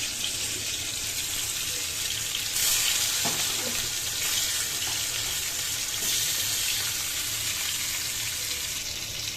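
Fish fries in a pan with a steady, soft sizzle throughout, with faint clinks and stirring noises and no talk.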